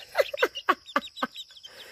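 Friendly young farm chicks chirp and cluck near the microphone in a quick, uneven run of calls that fades out.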